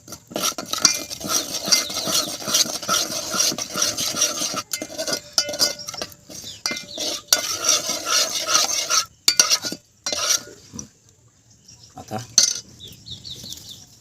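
Chili powder stirred into oil with a spoon for bamboo shoot pickle: continuous scraping and rubbing strokes against a metal pan, fairly close and loud, pausing briefly near the end.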